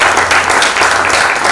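An audience gives a dense round of applause for a panel of speakers at a live talk event, with loud, continuous clapping from many hands filling the room.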